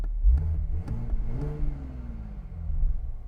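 A manual Toyota Supra's turbocharged engine revs up and down in low, muted rumbles, the pitch climbing then sliding back, with little bark to it.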